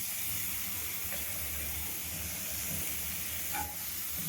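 Carrot and soya chunks sauté in a hot pan with a steady, close hiss and sizzle that barely changes, with no talking.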